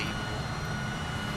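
An airliner taxis at an airport in Microsoft Flight Simulator, its jet engines making a loud, steady, broadband roar that holds evenly throughout with no speech.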